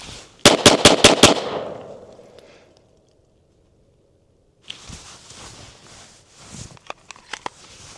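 Five rapid, sharp Glock 43X handgun shots crack in quick succession outdoors, with a long fading tail afterward, followed by quieter rustling and a few clicks.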